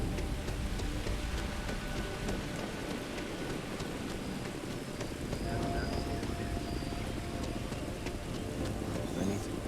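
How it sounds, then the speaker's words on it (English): Steady rain falls in the video game Starfield in the industrial town of Sidonia during a thunderstorm. The downpour forms a constant, fairly loud wash of drops across the whole stretch, with faint voices and game sounds beneath it. "Oh shit, it's raining."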